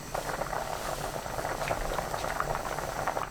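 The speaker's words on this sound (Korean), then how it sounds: "새알 넣고 끓입니다. 뚜껑 닫지 말고 그냥 끓이시면 돼요." Seaweed soup with mugwort rice balls boiling in an open pot over high heat, a steady bubbling burble with soft popping, close and even, with no voices.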